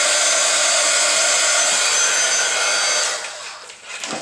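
A heat gun blows steadily over liquid art resin, a loud continuous airy roar that wavers and dips near the end, with no voices.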